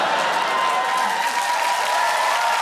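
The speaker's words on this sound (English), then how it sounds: "Why are you cheering?" A studio comedy audience claps and cheers loudly in a dense, even burst of applause, with scattered whoops, lasting a few seconds without any talk over it.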